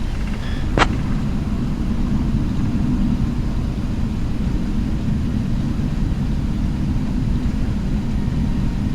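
A PMDG 777 airliner taking off from Los Angeles in a flight simulator gives a steady, dense engine roar that holds for the whole stretch. A single brief click sounds near the start, and no one talks.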